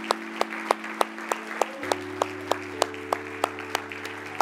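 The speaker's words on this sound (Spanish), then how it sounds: "Un aplauso a nuestro Señor." Evenly spaced claps from a church congregation keep a steady beat, one sharp hit about every third of a second, over sustained keyboard or organ chords that shift partway through.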